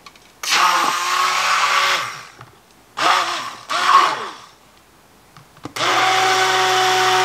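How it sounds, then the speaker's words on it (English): A hand blender froths milk for an iced Spanish latte. It runs in loud bursts: a long whir, two short pulses after a gap, then a final sustained run, with near silence between bursts. "And then I'm going to use a hand blender."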